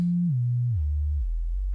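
Leapfrog Filter synth module in self-oscillation produces a pure sine tone that steps down in pitch in three distinct stages, ending on a deep low hum, loud, steady and alone.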